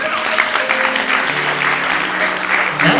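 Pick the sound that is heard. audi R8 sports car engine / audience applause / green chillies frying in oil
audience applause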